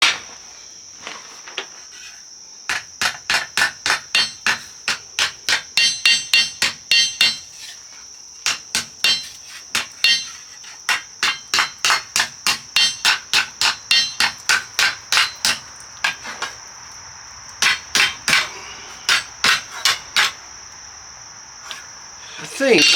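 A hammer strikes hot steel on an anvil while a shovel is forged, with quick clusters of sharp, ringing blows repeating in steady bursts and a high metallic ring hanging over them.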